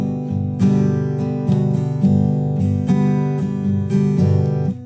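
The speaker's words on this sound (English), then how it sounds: "What I'm doing is strumming down with my thumb on the fleshy side and then coming up" A nylon-string guitar is strummed with the thumb, down on the fleshy side and back up, giving about five evenly spaced, ringing chords played alone.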